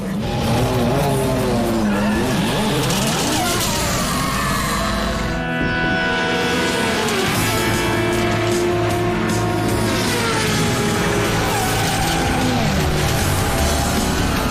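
A loud cartoon race car speeds along with a high revving engine whine and squealing tires, continuous and close throughout.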